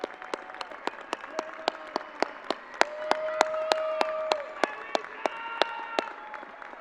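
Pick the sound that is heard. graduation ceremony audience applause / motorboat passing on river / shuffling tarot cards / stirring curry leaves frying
graduation ceremony audience applause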